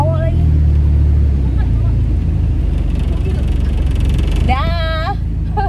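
Old car engine running loudly in a steady, low, droning rumble from inside the moving vehicle, with people talking over it and a brief higher-pitched voice near the end.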